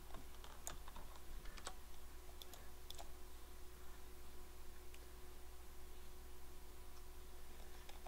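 Computer keyboard keys are pressed while playing Kerbal Space Program, mostly the Q and E directional keys, giving a scattering of faint, irregular clicks over steady low hum and background hiss.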